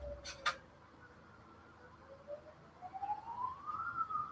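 A siren wails outdoors, rising slowly in pitch over several seconds, fairly faint and distant, with a couple of short sharp noises near the start.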